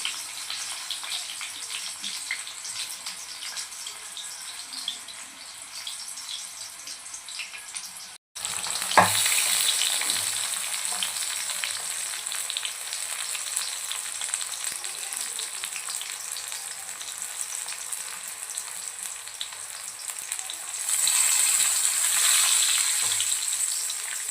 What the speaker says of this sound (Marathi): लगेच आपण ऑइलमध्ये फ्राय करायला टाकूया